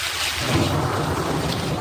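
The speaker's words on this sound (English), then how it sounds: "Rare thunder snow booming in western Wisconsin" Rare thunder snow rumbles in a dense, sustained boom during a late-winter blizzard in western Wisconsin, loud and continuous with a broad roar throughout.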